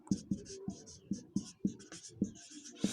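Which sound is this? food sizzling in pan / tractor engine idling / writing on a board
writing on a board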